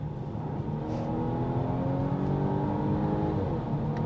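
Volvo V60 Cross Country B5 AWD with a 250-horsepower turbo engine and 8-speed automatic, heard as a loud, steady engine drone rising under acceleration, with a brief faint exhaust pop near the end.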